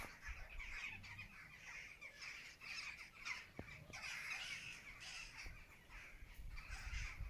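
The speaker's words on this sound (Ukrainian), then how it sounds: "Ворони літають." Crows caw in a rural village setting, repeated harsh calls at moderate distance over a soft outdoor background, fairly faint overall with no talking.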